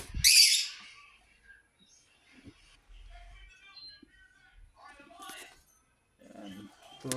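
A nesting pair of lovebirds gives short, scattered chirps and tweets, with a louder burst at the start and fainter calls later, amid quiet handling sounds.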